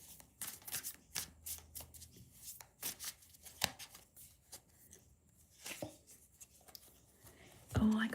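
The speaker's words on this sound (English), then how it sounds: "I shuffled the cards a hell of a lot" Close-up shuffling of a tarot card deck in repeated quick riffles and slides, with short pauses between bursts.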